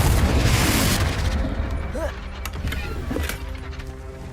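Confringo blasting spell exploding in Hogwarts Legacy, a loud booming burst at the start that rumbles and decays, followed by smaller crackling impacts and game effects.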